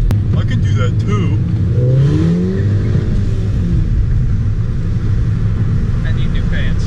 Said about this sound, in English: There's a reason people with front wheel drive cars don't do burnouts.